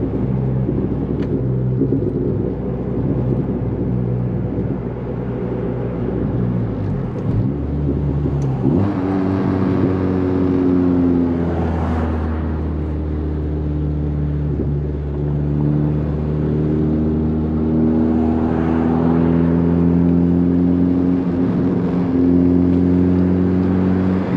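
A 10th-generation Honda Civic Si's engine and exhaust rumble steadily from inside while driving, with shifting drones as the engine revs up and settles, no voices.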